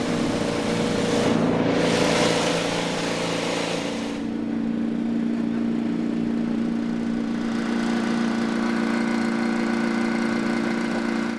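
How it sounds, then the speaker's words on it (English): IndyCar race car engines fire up together on the grid at Mid-Ohio for the Honda Indy 200, a loud dense roar that surges and then settles into a steady, rough idle with no talk. "So engines fire"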